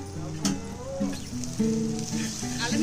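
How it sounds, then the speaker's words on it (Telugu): Ginger-garlic paste sizzles steadily as it fries in a pan for a meatless curry, a close, continuous crackle running beneath a voice. "కర్రీ పేస్ట్ అనేది బాగా ఫ్రై అవ్వనివ్వాలి"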